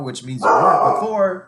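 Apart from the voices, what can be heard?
dog barking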